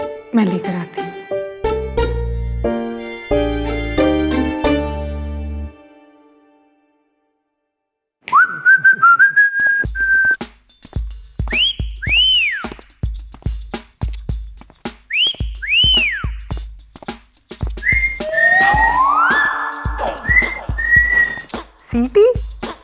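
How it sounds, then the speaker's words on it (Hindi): Whistling in a domestic drama scene: a bright sliding tune of rising and falling notes, played in repeated phrases, following a stretch of music and a brief silence. "सीटी?"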